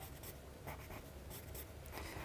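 Pencil shading hard on paper, a close, continuous scratchy rasp with short back-and-forth strokes, no talking.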